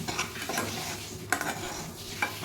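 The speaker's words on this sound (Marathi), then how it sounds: "जोपर्यंत ते लापसीला लाल कलर येत नाही थोडं थोडं असं छान भाजून घ्यायचं पंधरा ते वीस मिनटं भाजायचं" Broken wheat roasting in a pan for lapshi, stirred with a spoon, soft steady sizzle with a couple of scraping clinks against the metal, close and fairly quiet with no voices.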